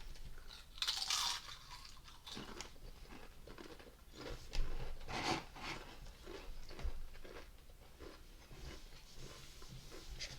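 Taco-flavoured chips crunched and chewed close up in a series of crisp bites with irregular rhythm, loudest near the start and middle, with no talking.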